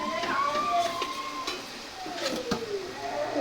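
Chicken being stirred and cooked down in a pan, with soft scraping and sizzling at moderate level under a continuous background of tonal chirps.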